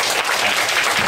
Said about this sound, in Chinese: 那我们就以热烈掌声欢迎